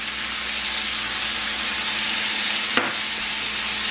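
Green beans saute in a hot pan with a loud, steady sizzle and hiss close by, broken once by a brief sharp clink near the end, with no talking.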